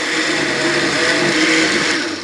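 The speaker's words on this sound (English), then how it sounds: "Add your soup mixture to a blender." A blender runs steadily, whirring loud and continuous as it purees a carrot ginger soup mixture, with a slight drop in intensity near the end.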